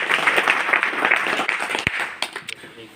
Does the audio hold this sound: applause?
yes